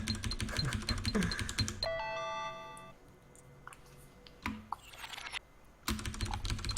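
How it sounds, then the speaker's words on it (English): Computer keyboard keys are hammered rapidly during gaming in a fast clattering burst, then a pause with a sustained tonal game sound and scattered clicks, before another dense burst of key presses. "you can just hold down the keys, like hammering won't help"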